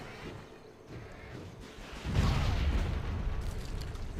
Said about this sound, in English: I'm going to start things off by firing with this artillery. And I'm going to follow it up with a shot from this rocket artillery.